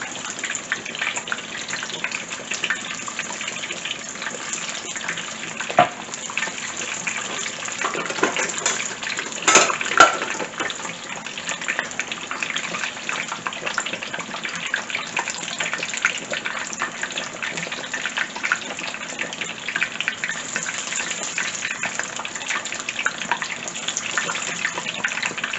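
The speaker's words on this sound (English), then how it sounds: "We're going to fry for 12 minutes." Korean-style chicken pieces deep-frying in hot oil, a steady, dense bubbling hiss that runs unbroken throughout with no voices.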